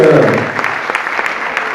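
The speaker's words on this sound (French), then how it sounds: "vos applaudissements à nouveau pour ce podium" An audience applauds a podium of finishers at an FSGT inter-committee awards ceremony in Louplande. Scattered, fairly close claps follow a brief moment of voice at the start.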